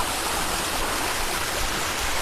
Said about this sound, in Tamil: நல்லா தண்ணி வருது.